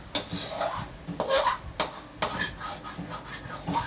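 Latik, coconut caramel, is stirred in a pan with a wooden utensil, giving repeated rhythmic scraping and rubbing strokes, close and fairly loud, with faint bubbling underneath.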